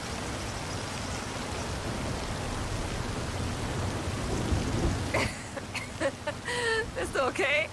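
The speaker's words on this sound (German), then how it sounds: "Die Stürme sind manchmal heftig, aber die alten Völker der Region wussten den Regen zu schätzen" Rainstorm with rumbling thunder in Forza Horizon 5, a dense hiss of rain under a low rolling rumble, with a voice speaking over it in the last few seconds.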